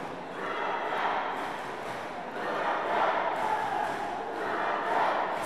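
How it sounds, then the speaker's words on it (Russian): Volleyball fans chant in a packed arena during a men's match between Churapcha district and Yakutsk at the Yakutia people's sports games, a broad crowd roar swelling in three rhythmic waves, steady and fairly distant. "Слышны скандирования."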